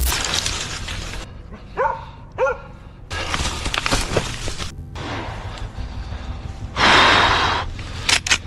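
A hunting dog during a close moose encounter outdoors lets out a few sharp barks and yips between bursts of rustling and gusty noise, loud and near, with some breathy gasps.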